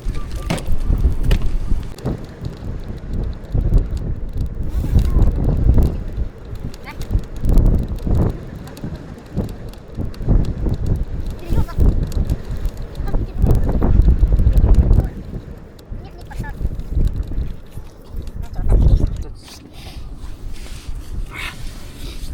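Gusty winter wind on an ice-fishing outing buffets the microphone in low, rumbling bursts that come and go, with people talking intermittently beneath the roar.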